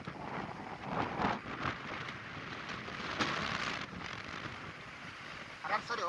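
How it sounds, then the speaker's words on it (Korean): Strong wind gusts across a seaside mudflat at Dodamsambong beach in Seosan, South Chungnam, at sunset. A loud, constant roar buffets the microphone and surges in places, with a faint voice in the background. "바람소리"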